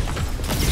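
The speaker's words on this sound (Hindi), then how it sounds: "रीलोड।" Weapon reload in the PS5 beta of the video game Concord: a short run of mechanical clicks and creaking metal, close and moderately loud, lasting under a second with no talk.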